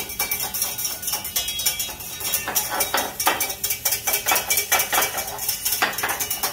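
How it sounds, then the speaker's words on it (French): Egg yolks with about a teaspoon of water per yolk are whisked for an eggs Benedict sauce, giving rapid, steady metallic clicking and scraping of the whisk against the bowl, close and continuous throughout. "Et là j'émulsionne ma sauce."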